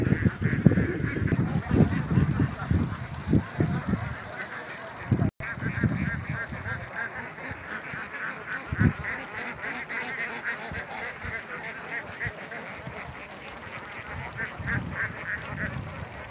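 A large flock of young ducks and ducklings on a farm by rice paddies quacks and honks continuously, a dense, close chorus of calls running throughout with steady background noise.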